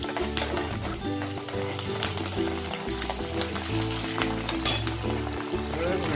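Curry leaves sizzle and crackle in hot oil in a home kitchen pan while preparing spicy-salty sanja, a steady close frying hiss with occasional clinks throughout.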